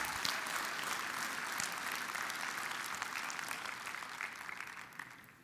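Applause from a church congregation, a steady wash of many hands clapping at moderate distance, continuous throughout and tapering slightly toward the end.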